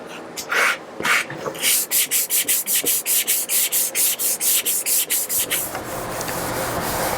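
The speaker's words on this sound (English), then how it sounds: "we finished the sanding" Tongue and groove wood boards being sanded by hand: quick, even back-and-forth scraping strokes, close and fairly loud, about a dozen in a row before easing into a steadier rub.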